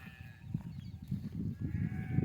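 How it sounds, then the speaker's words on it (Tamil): Sheep grazing in dry village farm fields give faint, distant bleats over a low rustling, rumbling outdoor background, with no voices. "செம்மறி ஆடு மேய்க்க விட்டுருக்காங்க"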